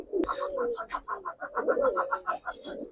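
Giribaz pigeons coo in a rapid run of soft, repeated throaty notes, fairly close and moderately quiet, with a short sharp click near the start.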